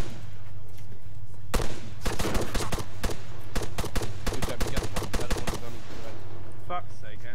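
Rapid gunfire bursts from a multiplayer shooter game, loud and close, with a single shot followed by dense volleys of sharp cracks over a steady low hum, then tapering off.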